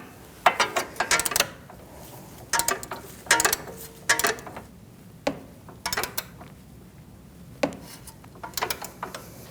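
Wrench snugging the inner tie rod on a 2008-2014 Mercedes-Benz C300 before torquing, heard as close, irregular bursts of clicking ratchet strokes separated by brief pauses.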